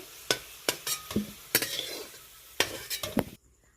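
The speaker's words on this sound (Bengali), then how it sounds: "আলুটা বেশ ভাজা ভাজা হয়ে গেছে" Potatoes fry in oil in a wok, a soft sizzle under repeated sharp scraping and clanking strokes of a metal spatula against the pan, close and fairly loud, with no talk.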